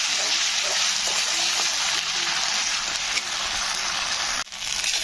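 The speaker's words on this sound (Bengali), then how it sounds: "এই যে মশলাটা বেটেছিলাম, আদা জিরে ধনে এই পেস্টটাকে দিয়ে দিতে হবে। তো মশলাটাকে দেওয়ার পরে মিনিমাম 2 মিনিট মতন এরকম কষে নিতে হবে।" A paste of ground ginger, cumin and coriander fries in hot oil for a vegetarian jackfruit curry, giving a steady, close hiss with faint stirring scrapes and a brief break near the end.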